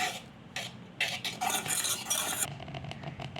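A spoon scrapes and clinks around a bowl in irregular bursts, close and clear, mixing thick cake batter of powdered sugar and flour with no talking.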